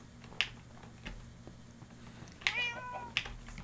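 A cat meows a few times, short, fairly close calls scattered over a few seconds, including one longer drawn-out meow, against a low steady background hum.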